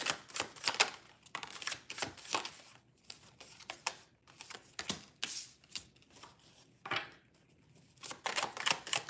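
Tarot cards being shuffled and drawn at a live reading: a run of quick, crisp riffling and flicking bursts with short pauses between, close and fairly quiet, with no talking.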